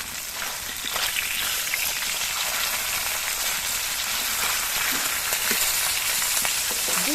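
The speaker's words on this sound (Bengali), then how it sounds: "মাছগুলো এক পিঠ ভাজা হয়ে যাওয়ার পর আমি মাছগুলোকে উল্টে দিচ্ছি" Tengra fish from the Ganges, freshly turned and frying on their second side in hot oil, giving a steady broadband sizzle that crackles evenly and fairly close, with a few faint pops and no talking.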